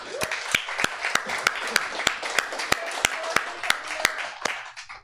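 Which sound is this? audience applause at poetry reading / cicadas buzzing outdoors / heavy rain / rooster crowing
audience applause at poetry reading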